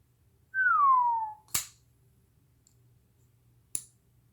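A Sitivien ST-102 balisong snaps shut with a crisp metallic click, followed moments later by a second, fainter click. A short whistling tone comes just before the clicks.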